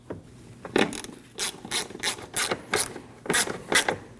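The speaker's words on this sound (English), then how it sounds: "Now you can install your two 10mm bolts." A hand ratchet snugging 10mm bolts on the liftgate supports of a 2003-2008 Subaru Forester, close and clear, a rapid series of clicking pawl strokes in short rhythmic bursts.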